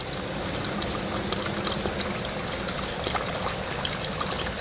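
Water pouring out of an inlet into an aquaponics grow bed in a greenhouse, a continuous close, fairly loud splashing trickle that holds steady throughout.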